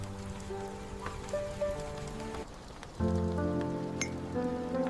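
Rain falls steadily, a soft continuous patter of drops on surfaces, faint and fairly distant, with no voices.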